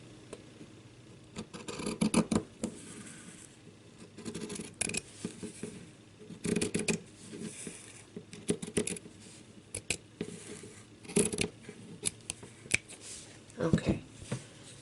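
Scissors snip through paper while cutting out a snowman ornament craft pattern, giving repeated short crisp cuts in irregular bursts, close and fairly quiet, with faint talk at times.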